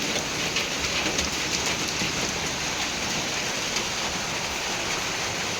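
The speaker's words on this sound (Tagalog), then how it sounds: "Sa ngayon, mahina na po yung ulan, pero patuloy pa rin siya." Light rain falls steadily outdoors, making a continuous, even hiss of drops from start to finish with no voices.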